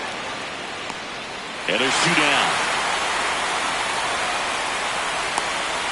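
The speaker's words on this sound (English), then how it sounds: "This rain is not letting up." Steady, dense rain hisses over a ballpark in MLB The Show, a continuous wash of noise that runs throughout while a commentator speaks briefly over it.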